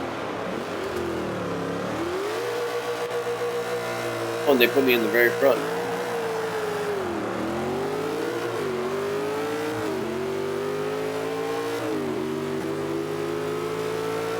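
A Dodge SRT Challenger engine in Forza 5 revs and shifts through gears, the tone rising and dropping repeatedly over a steady drone, with someone talking throughout.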